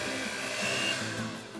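An electric mixer whisks cookie batter of yogurt, sugar, vanilla and eggs in a bowl, giving a steady, close motor whir that holds for the whole stretch and eases slightly at the end.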